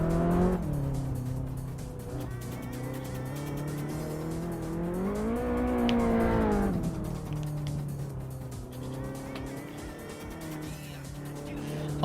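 A race car in a racing video game powers through corners as its engine tone climbs and falls, a steady loud whine with a brief screech of tires mid-run.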